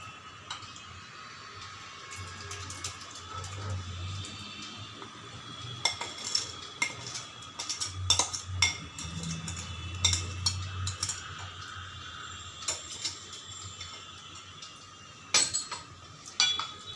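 Ripe mango and sugar muramba gets stirred in a wok, with intermittent metallic clinks and scrapes of a spoon against the pan over a faint, steady background hum.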